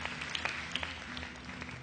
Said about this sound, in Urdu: بہت سی تالیاں بجائیے جناب، بہت سی تالیاں